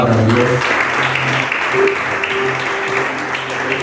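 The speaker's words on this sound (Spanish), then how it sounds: "Puedes darle un aplauso a la palabra de Dios" Church congregation applauds during a sermon, a short burst of clapping with voices and some sustained tones underneath, fading slightly toward the end.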